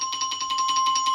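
Orchestra bells, metal bars struck with a hard mallet, sound in a quick even series of bright ringing tones with sharp attacks and sustained high overtones, moderately loud and unaccompanied.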